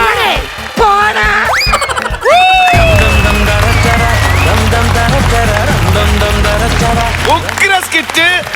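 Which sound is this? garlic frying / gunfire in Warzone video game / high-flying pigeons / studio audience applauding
studio audience applauding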